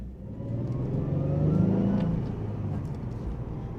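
A 2003 Nissan 350Z Track Edition brought out of the garage after weeks in storage, its engine swelling in a single smooth rev that peaks and eases back, heard close and steady with no talk.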